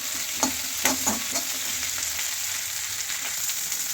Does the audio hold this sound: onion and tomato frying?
yes